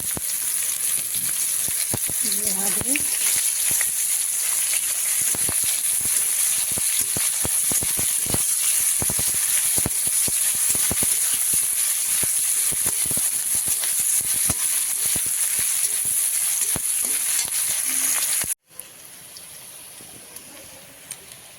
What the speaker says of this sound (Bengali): এবারে কেটে রাখা সবগুলো পেঁয়াজ দিয়ে দিলাম